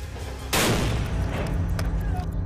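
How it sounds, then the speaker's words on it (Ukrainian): A sudden loud blast from an explosion in the street bursts out and then rumbles and crackles away outdoors, with a few sharp cracks trailing after it. "на вулиці лунає вибух"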